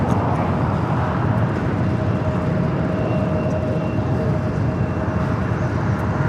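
Korean Air Boeing 747-8 Intercontinental taxiing slowly to the gates at LAX: a continuous broad engine roar with a faint steady whine, constant in level throughout.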